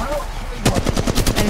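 Rapid automatic gunfire in Apex Legends breaks out suddenly partway through, a loud, close string of evenly spaced shots following quieter game ambience.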